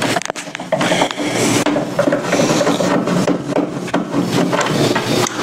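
Close scraping, rubbing and small knocks as a magnetic screwdriver works screws out of the bottom of a Samsung LCD TV stand, an irregular run of handling noises with no talk.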